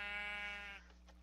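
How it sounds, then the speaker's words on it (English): A Minecraft sheep gives a single clear, close bleat with a wavering tone that fades away, with nothing else in the background. "You can hear sheep all day and all night."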